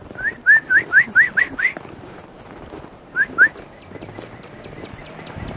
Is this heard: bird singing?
yes